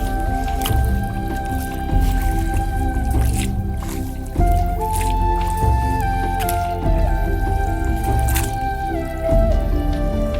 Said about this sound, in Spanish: Una vez que yo comienzo a menear, comienza a salir el sedimento.